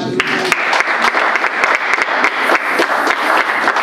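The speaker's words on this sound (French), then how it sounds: "Acclamons le Seigneur" A church congregation claps in steady rhythmic unison, loud and close, with the beats running evenly throughout and faint voices mixed in.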